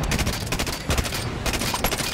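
Rapid gunfire in a Halo 5 skirmish: a dense, continuous burst of loud, close shots with only a brief dip partway through, and no voices.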